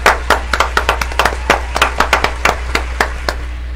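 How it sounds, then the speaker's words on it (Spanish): A small audience claps, a sparse run of separate, fairly close handclaps in an uneven rhythm over a low steady hum, with no talk. "Un fuerte aplauso para ella."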